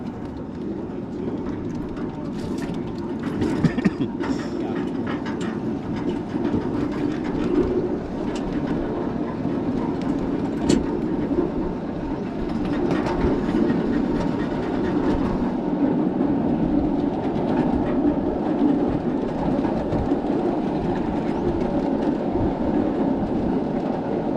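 A ride-on miniature train with a roughly 700-pound engine rumbles steadily along its rails with faint rhythmic clacking and occasional clicks, a continuous rolling noise throughout.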